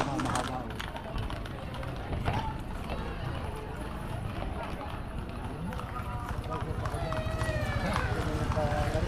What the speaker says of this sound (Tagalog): Yan ang kabayo.